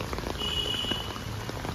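Heavy monsoon rain in Mumbai pours down in a dense, loud, unbroken hiss and patter of drops striking surfaces, filling the short stretch with no talk.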